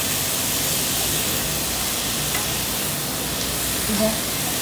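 A pan of pad thai with peanuts and chives is stirred over heat, giving a steady, even sizzle with no break.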